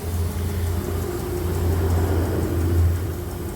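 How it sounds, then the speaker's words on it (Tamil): A motor vehicle rumbles close by, its steady low engine drone swelling slightly as it arrives, with no talking. "இப்போ வண்டி வந்திருக்குது பாருங்க"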